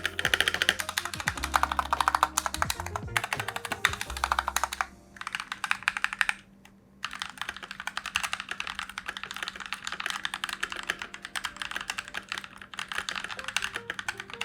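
Rapid, close typing on a Rexus Daiva 87 wireless TKL mechanical keyboard, a dense run of clacky keystrokes with a brief pause midway, no voices.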